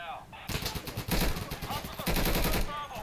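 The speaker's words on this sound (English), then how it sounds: "Shots coming from all directions, random directions now." Gunfire from the tactical shooter game Insurgency, heard as rapid overlapping bursts of automatic shots and single cracks that keep going for a few seconds at moderate level.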